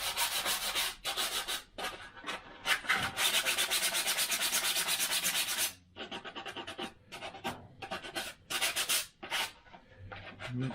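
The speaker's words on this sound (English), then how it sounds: "I'm using what is it, a 180 grit sandpaper to sand off" Edges of a 3D-printed LW-PLA part for a Wingnut 850 model aircraft are sanded by hand with 180-grit sandpaper, giving close, rhythmic rasping strokes in quick bursts separated by short pauses.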